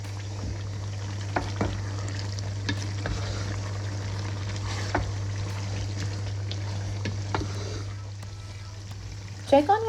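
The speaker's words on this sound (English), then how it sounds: "Fry them and use your spoon to break them apart." Onions fry in a pan with a low steady sizzle, broken up by intermittent scraping taps of a spoon stirring them, over a constant low hum.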